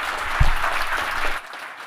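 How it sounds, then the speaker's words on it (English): A room of listeners applauds after a talk with a short burst of dense clapping that cuts off suddenly after about a second and a half. "Let's give her a warm hand of applause."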